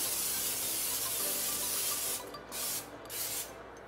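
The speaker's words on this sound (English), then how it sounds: "We're gonna spray some olive oil," Olive oil sprayed onto a chicken in an air fryer rotisserie setup, a long continuous close hiss followed by several shorter spray bursts.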